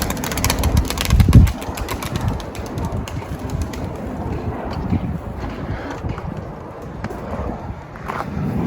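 Tumbler pigeons cooing and fluttering nearby over a low engine-like hum, with one louder burst of wing flapping near the start and a steady ambient murmur after.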